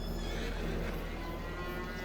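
A horse whinnies in Farming Simulator 25 against a constant low farm-game hum, a single drawn-out neigh that holds steady for about two seconds.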